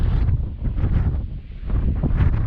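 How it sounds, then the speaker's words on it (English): Wind rising in a remote desert canyon in Big Bend, roaring and buffeting the microphone in heavy low gusts that swell and dip throughout, with no talking. "the wind is just kicking in right now"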